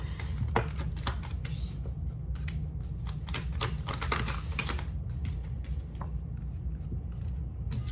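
Tarot cards being handled and pulled from a deck, a dense run of quick crisp clicks and flicks over a steady low background hum, close and continuous, with no talking.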